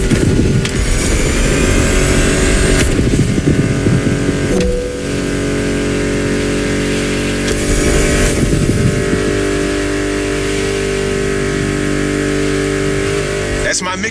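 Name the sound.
car engines revving in The Crew Motorfest video game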